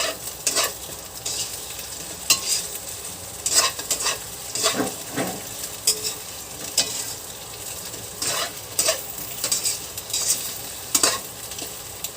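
Tuna afritada ingredients frying and being stirred in a pan, with a steady sizzle broken by repeated scraping and clinking of a utensil against the pan, close and moderately loud, no talking.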